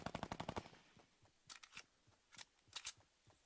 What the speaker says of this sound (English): There's the minigun.